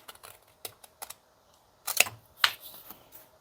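Paper being cut for a junk journal belly band with scissors, a few sparse snips followed by two sharper, louder cuts near the end, close and alone without talk.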